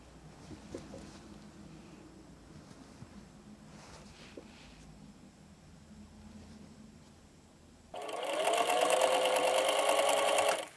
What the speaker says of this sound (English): Now I'm going to fold like this to sew this edge of the waistband.